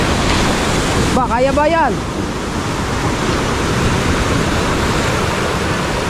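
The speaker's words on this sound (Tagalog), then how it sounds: "Ang lalaki ng alon." Big ocean waves pound in a continuous heavy roar of surf and wind, with a voice speaking briefly over the rush near the start.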